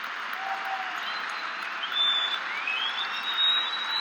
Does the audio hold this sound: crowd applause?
yes